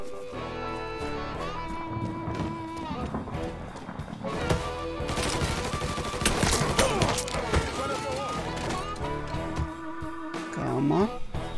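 Gunfire in the video game Mafia III comes as dense, sharp bursts of shots that swell into a heavy exchange midway, mixed with game music and effects, while a voice talks over the action.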